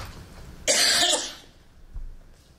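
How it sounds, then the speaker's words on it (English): A single sharp cough rings out close by, breaking a quiet classroom during a lecture, followed by faint low background noise. "No coughing in class."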